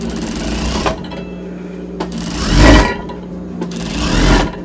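An industrial sewing machine stitches a fabric face mask in short, loud bursts of rapid mechanical whirring, separated by brief pauses, with no voices over it.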